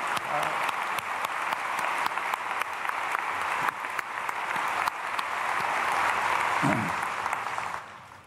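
A church congregation applauds steadily through a dawn prayer service, dense sustained clapping filling the room for about eight seconds before fading, with a brief voice cutting in near the end.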